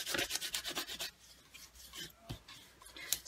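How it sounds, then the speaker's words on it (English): A bone folder burnishes an adhesive sheet onto cardstock with quick, close rubbing strokes. The strokes come as a rapid rhythmic series and then slow to a few softer, scattered passes, with no speech. "you use your bone folder to burnish"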